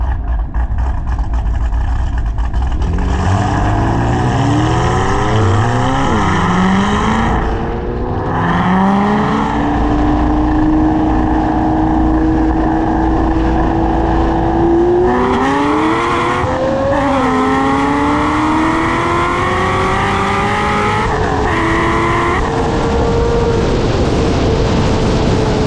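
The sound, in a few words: 850whp Corvette C6 Z06 accelerating in roll race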